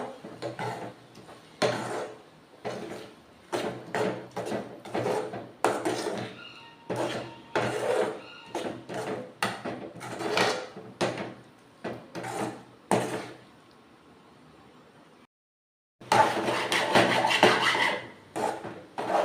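A spatula or spoon stirring and scraping egg palya in a pan, irregular bursts of scraping and knocking strokes with brief pauses, one short silent gap, then a denser run of stirring near the end.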